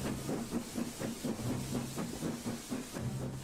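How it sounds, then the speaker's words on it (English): A steam train chuffs in rapid rhythmic puffs with hissing, quiet and somewhat distant, the beat holding steady as it draws in. "At last, another train came."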